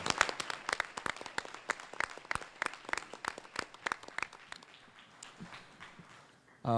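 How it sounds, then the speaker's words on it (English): A small school board meeting audience claps for commended students: sparse, distinct hand claps in a loose patter that thins out and fades toward the end. "One more round of applause for all of our commended students here"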